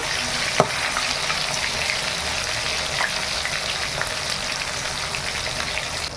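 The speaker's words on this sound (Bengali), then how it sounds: "এবার আমি মাংসগুলো ভাজবো।" Chicken pieces sizzle in hot oil in a pan, a dense, even hiss held at close range for several seconds with a sharp pop near the start and a few faint spatters, no voices.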